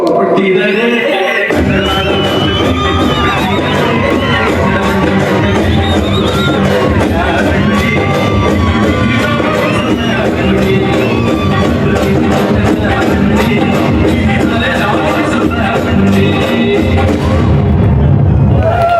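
Large festival crowd at an outdoor film poster and trailer launch in Karnataka, clapping and cheering loudly and steadily with whoops and shouts throughout, dense and close, after a brief quiet start.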